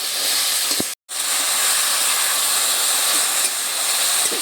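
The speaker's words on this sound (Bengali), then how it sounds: "ঢাকা খুলে একটু নেড়ে চেড়ে এবারে কষিয়ে নেব কচুলতিটা" Taro stolons sauté in a hot pan with a loud, continuous sizzling hiss, broken once by a momentary gap before the frying noise resumes.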